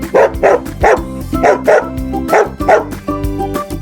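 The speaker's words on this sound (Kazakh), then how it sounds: "Ферманы қорғайтын ит, ол гав-гав дейді." A farm guard dog barks about six times in a steady rhythm, each bark loud and close, over a continuous musical backing.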